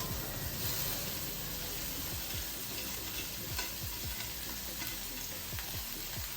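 Rice goes into a pan with egg and fries over steady heat, giving a continuous soft sizzle with repeated stirring scrapes throughout.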